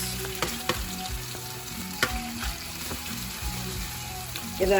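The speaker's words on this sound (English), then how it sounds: "And now it's time for the onions. Pop that into the hot oil." Onions frying in hot oil give a steady, moderately loud sizzle, punctuated by occasional knocks and scrapes of a utensil stirring the pan, with faint talk in the background.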